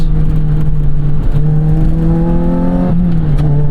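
Lotus Elise four-cylinder engine revving loud and close from the cabin, a steady drone rising in pitch through the gears with a brief dip at a shift.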